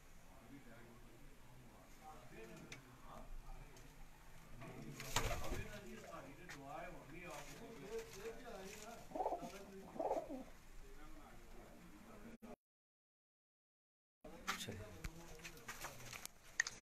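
Pigeons cooing on a rooftop in Sheikhupura where racing pigeons are kept, low repeated coos in a noisy outdoor setting with some louder bursts and a brief dropout.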